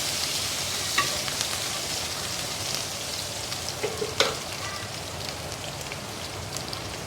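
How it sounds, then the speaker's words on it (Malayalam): Ingredients frying in oil for South Indian style pasta give a dense, continuous sizzle and crackle with a few utensil taps, close and steady throughout, with no talking. "അപ്പോൾ ഞാനിവിടെ ബട്ടറല്ല എണ്ണയാണ് ഉപയോഗിച്ചേക്കുന്നത്. ഇതിപ്പോൾ നന്നായിട്ടൊന്ന് മൂപ്പിച്ചെടുക്കണം."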